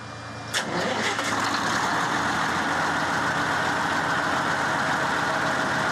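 A tractor engine turns over and catches about half a second in, then settles into a steady, loud, close idle that runs unbroken to the end, with no talk over it.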